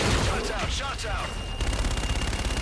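Heavy gunfire and explosive bursts in the Call of Duty Infinite Warfare campaign, loud and continuous over radio chatter, ending in a rapid rattling volley.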